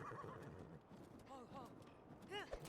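In a climbing video game, a horse whinnies several times in rising and falling bursts, mixed with hoof clip-clops and faint background sound, all very quiet.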